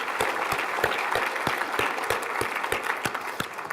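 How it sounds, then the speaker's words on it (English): Applause from a large conference audience of about 1,300 people, a dense steady wash of clapping with a few sharper individual claps standing out, sustained and even throughout. "So please give yourselves a round of applause for that."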